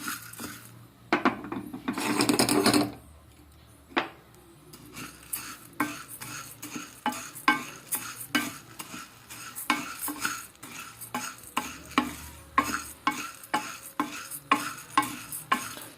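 A spoon scrapes and stirs dry urad dal being dry-roasted in a pan, with repeated rattling, gritty scratches and a couple of louder clanks against the metal.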